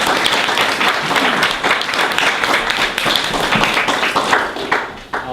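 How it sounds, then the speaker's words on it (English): Steady, full applause from a hospital task force meeting audience, continuous dense clapping that fills the room for several seconds with no talk. "the applause is for everybody that's donated"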